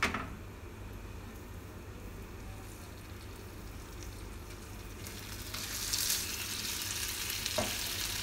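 Chicken for ayam bakar sizzles faintly in an oil-free grill pan, a steady low hiss that rises slightly in the later seconds.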